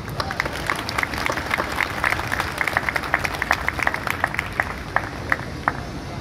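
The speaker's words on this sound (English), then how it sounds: "So give yourselves a round of applause." A graduation ceremony audience applauds for a high school of arts and technology in Manhattan, New York, producing dense, sustained clapping from a large crowd throughout.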